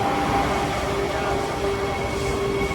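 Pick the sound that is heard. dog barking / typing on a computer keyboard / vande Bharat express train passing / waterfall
vande Bharat express train passing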